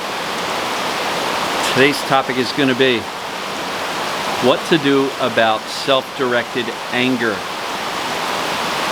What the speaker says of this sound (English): we got ourselves a nice big rainstorm